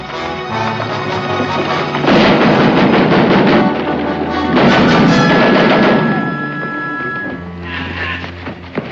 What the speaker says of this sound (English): It's a battery. Battery of rifles.